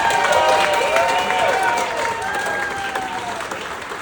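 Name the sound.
applause for the bride at a wedding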